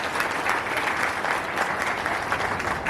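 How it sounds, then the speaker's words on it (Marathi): An audience applauds steadily and loudly for about three seconds, a dense, continuous wash of clapping with no voices on top. "आपण निलेजीसाठी एकदा टाळ्या वाजवूया"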